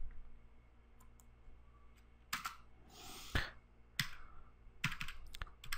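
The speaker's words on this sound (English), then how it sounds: "I'm going to press enter." A computer keyboard in a server lab setup, with several sharp separate key clicks and a louder keypress in the middle, close and fairly quiet over a low background hum.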